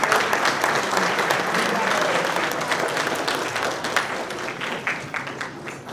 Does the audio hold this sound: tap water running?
no